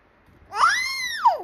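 A single cat meows once, loud and close, a drawn-out rising and falling call lasting about a second with a brief upturn at the end, alone in a quiet room.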